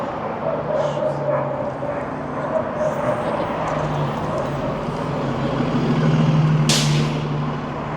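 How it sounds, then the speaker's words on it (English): A city bus passes on 17th Avenue in Calgary's Beltline, its rumble swelling over steady street traffic and ending in a short sharp air-brake hiss. "comes the bus."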